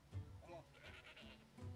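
A goat bleats in the village-building game Dawn of Men, a short, wavering bleat up close against a low, soft game ambience.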